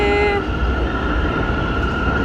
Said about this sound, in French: Première fois dans le métro new-yorkais.